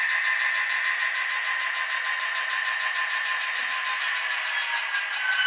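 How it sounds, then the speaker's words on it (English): Brake sounds from an Atlas HO scale GP40-2CU model locomotive in NECR livery, a steady hiss and hum of air brakes over the idling diesel, close and without talk. "Nice brake sounds on that as well."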